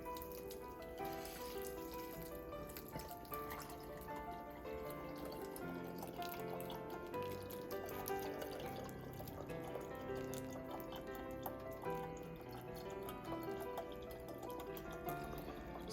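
Melted clarified butter (ghee) pours from a pan into a half-pint jar, a soft continuous liquid trickle with steady dripping and a faint background hum throughout.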